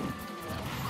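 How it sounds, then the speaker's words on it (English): A forward smash attack lands in Super Smash Bros. for Wii U during a tournament doubles match, a loud, heavy crashing impact that fills the brief moment amid dense game sound. "Prism managing to make it back on the left side, but gets forward smashed off anyway."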